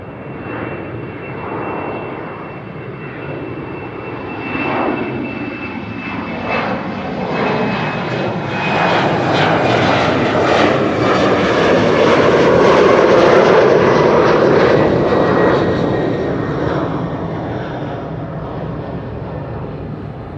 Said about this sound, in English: Singapore Airlines flight 323 to Singapore is leaving.